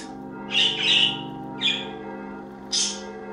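A budgie gives three sharp, close squawks in quick succession over a steady mechanical hum.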